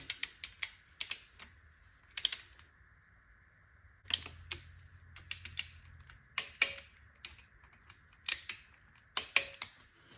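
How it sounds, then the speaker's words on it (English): A torque wrench tightens the bolts of a Melling timing chain damper on an LS engine, giving sharp, close clicks and ratchet ticks in irregular bursts with quiet gaps and no talk. "we've already got our torque wrench dialed up to 18. So we're just going to tighten this top one first."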